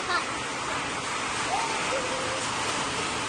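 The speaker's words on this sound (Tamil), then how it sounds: "வெளியே ஆனங்கட்டி மழை பெய்யுதுன்னு நினைக்கிறேன்" A steady, dense roar of hail pelting down outside, a constant rushing clatter with no pauses.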